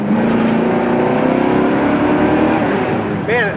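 A 1971 Oldsmobile 442 muscle car with exhaust cutouts runs close by, its V8 rumbling and revving through the normal exhaust with a throaty, loud, continuous tone.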